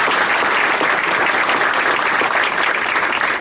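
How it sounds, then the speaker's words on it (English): An audience applauds commissioners at a ceremony marking the 50th anniversary of the CBBT, dense and sustained clapping that holds at a steady, loud level throughout before cutting off at the end. "Join me in applauding."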